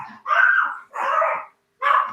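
A dog gives three drawn-out barks or howling yelps, loud and close, separated by short pauses.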